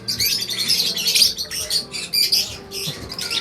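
Several birds chirp and tweet in rapid, overlapping bursts, fairly close, over a low background rumble.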